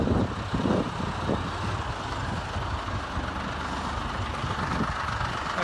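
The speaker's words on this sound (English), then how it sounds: "we just have a truck going past" A truck rumbles past a building site for several seconds, producing a steady, broad engine roar with some clanking, fairly close and continuous, with no talk over it.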